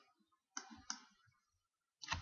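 A computer keyboard clicks in a few quick, close keystrokes separated by short pauses, faint and alone in a quiet room.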